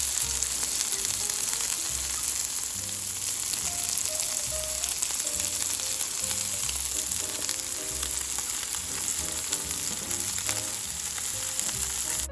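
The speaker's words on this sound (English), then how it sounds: "Cook the burgers for 3 to 5 minutes on one side." Offal burgers made from organ meat fry in a pan with a loud, steady sizzle lasting the whole stretch, and a faint tonal backdrop runs beneath it.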